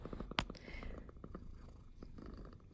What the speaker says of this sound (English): there's my cat again saying hello